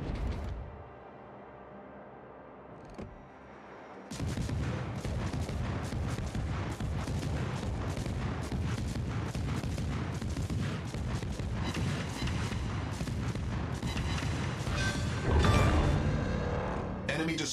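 Naval combat in a video game, a Forrest Sherman destroyer's gun firing rapid rounds as an enemy destroyer explodes: a quiet, creaking lull, then a sudden dense, loud barrage of booms and blasts that continues steadily, swelling briefly near the end.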